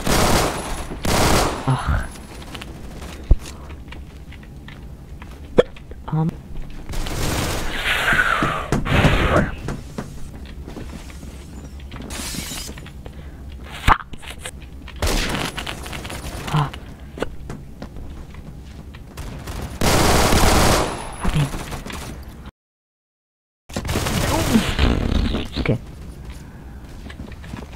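Gunfire in the Roblox shooter Phantom Forces comes in repeated loud bursts and single cracks across the stretch, with brief pauses and one short silent gap, and someone speaks now and then between the shots.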